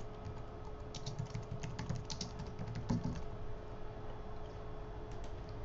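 Soft, steady typing on a computer keyboard with scattered key clicks over a quiet background hum. No one speaks.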